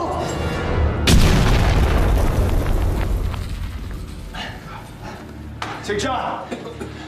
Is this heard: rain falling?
no